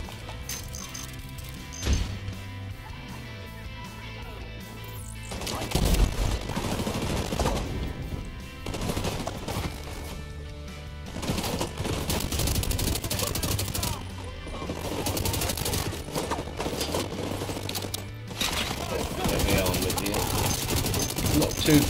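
Sustained automatic gunfire from the player's weapons in a video game battle to retake a city hall control point rattles in long, dense bursts with crashes and impacts, as a voice talks over the action.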